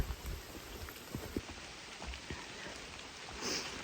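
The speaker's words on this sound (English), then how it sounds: "it's raining hard" Heavy rain pours steadily through a wet forest, a dense hiss of drops on leaves and ground with scattered louder splats, no voices.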